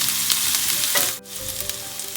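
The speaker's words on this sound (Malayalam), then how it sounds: "നമുക്ക് ഇനി ഈ വെളുത്തുള്ളി, ഇഞ്ചിൻ്റെയും പച്ചമുളകിൻ്റെയും പച്ചമണം മാറുന്നത് വരെ ഒന്ന് വഴറ്റി കൊടുക്കുക." Garlic, ginger and green chillies sauté in hot oil in a pan, a loud continuous sizzle with a brief dip as they are stirred.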